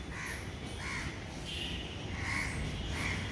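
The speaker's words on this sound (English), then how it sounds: "we can see some crows" Crows caw repeatedly over Dhaka, several harsh calls spaced across the clip, over a steady hum of city background noise.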